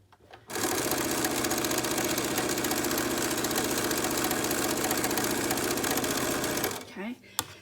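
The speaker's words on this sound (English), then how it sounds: "sewing machine, and you're gonna sew a 1/4 inch seam on this rounded edge here" A sewing machine stitching a quarter-inch seam along the rounded edge of a fabric mask, starting abruptly and running in a fast, steady mechanical whir for several seconds before stopping, close and loud.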